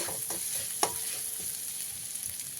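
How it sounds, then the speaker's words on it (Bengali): Soft, steady sizzle of ginger and green chilli frying, with a few light scrapes of stirring and one sharper clink, no voices. "আদা আর কাঁচা লঙ্কাটা ভালোভাবে ভাজা হয়ে গেছে"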